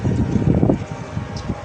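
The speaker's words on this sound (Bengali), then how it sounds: "আজকে একটু বাতাস আছে বাবা।" Wind buffets the microphone outdoors in a steady low rumble with gusty swells, alongside faint background voices.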